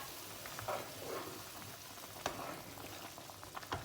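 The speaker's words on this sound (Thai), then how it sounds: "นี่ค่ะน้ำเดือดแล้วนะคะ" Water bubbles and crackles in a pot of Thai clear soup with shrimp balls, a continuous faint simmering hiss with small pops scattered throughout.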